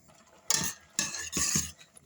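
A utensil stirring rice and water in an uncovered pot on the stove for rice pudding, giving three short scraping, clinking strokes close up, with no talking.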